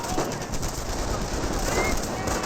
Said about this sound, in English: we've got the grenadiers getting suppressed there by the MG42.